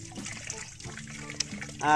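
Well water pours from a hose into a simple makeshift faucet on a farm, a steady trickling splash with a brief louder gush at the end.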